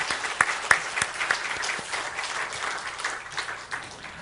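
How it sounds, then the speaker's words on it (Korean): A congregation at a Friday prayer meeting at a Korean church applauds, a dense, steady patter of many hands clapping with a few sharper claps standing out near the start, carrying on evenly throughout. "우리 감사의 박수 드리겠습니다."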